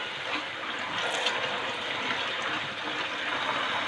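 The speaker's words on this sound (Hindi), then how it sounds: "ठंडे पानी से गुजार लें।" Boiled macaroni rinsed under cold running water: a steady, close hiss of water splashing from the tap for the whole stretch, with no talk over it.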